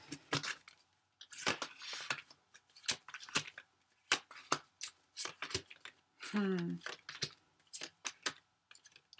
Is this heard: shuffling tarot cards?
yes